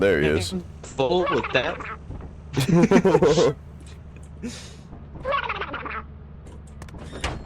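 In the Lethal Company video game, a bird monster squawks and gobbles like a duck in several loud, warbling bursts, interleaved with players talking.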